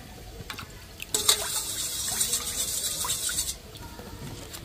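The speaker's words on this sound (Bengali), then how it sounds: "এর মধ্যে দিয়ে দিচ্ছি 2 চামচ টমেটো কেচাপ, আর দিয়ে দিচ্ছি 3 চামচ মতো সয়া সস।" Tomato ketchup and soy sauce pour into a pan for a cabbage veg Manchurian sauce, making a soft, steady liquid stream for a few seconds amid light kitchen clatter.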